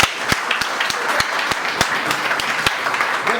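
Enthusiastic clapping at a leaders' meeting, a crowd's continuous patter punctuated by several sharp, loud individual claps close by, sustained throughout.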